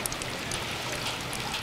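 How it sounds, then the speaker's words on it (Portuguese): Rain falling on and leaking through the roof of a century-old municipal market, a soft, steady patter and hiss with scattered drips, faint and continuous with no voices. "Esse é o som ambiente do Mercado Municipal em dias de chuva."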